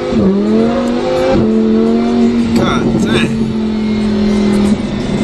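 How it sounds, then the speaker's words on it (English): Sports car engine, a machine more aggressive than a Lamborghini Aventador, revs and holds a loud steady drone while driving, pitch sliding up then settling, with someone talking over it. "this car is more aggressive to drive than the Aventador"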